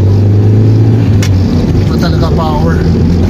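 A 1990s Mitsubishi Spacewagon with a 4G63 engine pulls with a loud, steady low drone heard from inside the car, while a voice talks over it.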